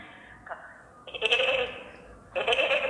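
A person's voice imitates sheep bleating, giving a couple of wavering baa calls with short pauses between them.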